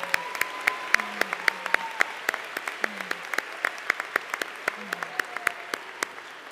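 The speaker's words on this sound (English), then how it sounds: "Let's give them a round of applause." Scattered applause from an audience at a U.S. summer programs closing ceremony, individual claps standing out as sharp repeated cracks at moderate distance, with faint voices murmuring underneath.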